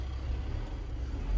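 A VW Transporter with a 2 litre TDI diesel engine pulling in second gear, a steady low engine drone heard from inside the van with no talk over it, swelling slightly toward the end.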